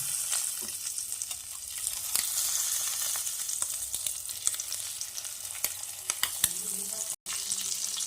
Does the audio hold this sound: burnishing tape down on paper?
no